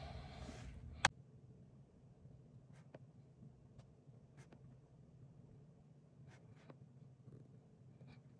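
A pen colors on cash envelopes, giving faint, sparse scratchy strokes against quiet background hiss, with one sharp tap near the start.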